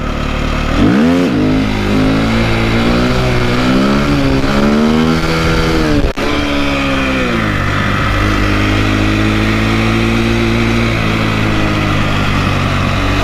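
A KTM 250 motorcycle engine revs loudly and close during a clutch-up wheelie, its pitch climbing and falling in repeated swells, with a sharp clunk midway before it settles into a steadier drone.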